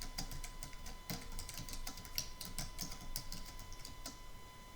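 Steady typing on a computer keyboard, a quick irregular run of light clicking keystrokes heard close and fairly soft, with no voices.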